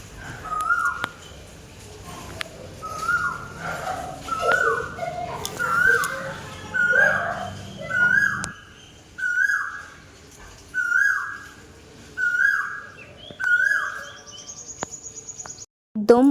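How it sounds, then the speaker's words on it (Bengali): Koel (cuckoo) calling in the early morning from near a home balcony and garden: a clear, rising whistled note repeated about a dozen times at a steady rhythm, moderately close, over faint background noise. "তো সকাল সকাল কোকিলের ডাক শোনাই,"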